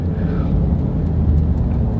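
A Cobb-tuned Ford Raptor pickup accelerates hard, giving a loud, close, deep engine rumble with a steady whirring drive.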